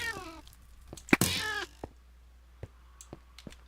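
A single drawn-out, warbling cat-like meow from a video game ghost rises and fades amid scattered clicks and thumps, fairly close, with no talking.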